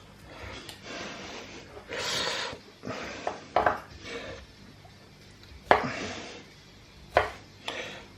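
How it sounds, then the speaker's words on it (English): Repeated knife chops through tomatoes on a cutting board, irregular bursts of thudding cuts with short pauses between, fairly close. "we are just literally chopping them"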